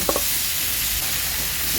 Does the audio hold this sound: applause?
no